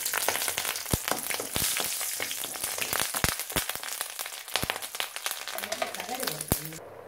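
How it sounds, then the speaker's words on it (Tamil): Two or three dried red chillies fry in hot oil in a kadai, a loud, close, crackling sizzle full of sharp pops, with a voice briefly speaking near the end. "சட்டியில் எண்ணெய் வச்சுருக்கேன். இதில் 2-3 வத்தல் போடுறேன்."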